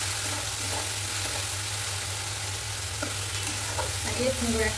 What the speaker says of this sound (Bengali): সেন্ট বেরোচ্ছে মশলা ভাজার